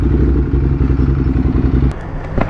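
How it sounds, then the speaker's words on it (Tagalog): A Ducati Hypermotard motorcycle with a Termignoni exhaust idles and revs close by with a steady low rumble, then dips and briefly revs again near the end. "Ay, bagong motor ni Paolo G."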